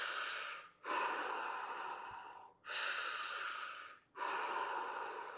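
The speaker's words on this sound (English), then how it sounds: "and then I do a breath in" Breathing exercise: three long, loud airy inhalations or exhalations through the nose or mouth, each lasting over a second, separated by short pauses, close to the microphone.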